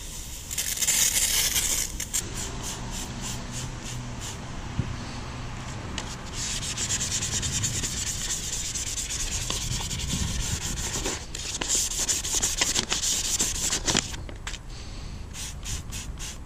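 A polishing machine works over the rear light lenses of an Audi A6 3.2, giving a continuous close rubbing, sanding hiss with pulsing strokes and short breaks, and no talk.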